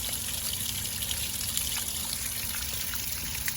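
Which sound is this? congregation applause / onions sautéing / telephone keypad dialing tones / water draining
water draining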